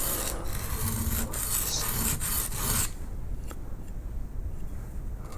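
Woodcarver's skew chisel rubbed back and forth on an oil stone, a steady close rasping scrape that runs continuously for about three seconds, then drops to faint quieter strokes.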